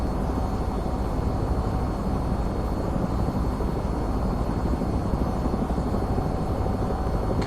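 An AH-6 Little Bird helicopter in the VTOL VR game gives off a steady, dense rotor and engine rumble, loud and unbroken throughout, with no speech.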